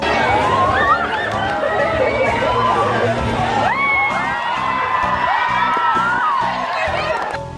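Excited fans scream and cheer as performers arrive in a meet and greet room, a loud, sustained crowd of high-pitched shrieks and shouts that swells and overlaps throughout.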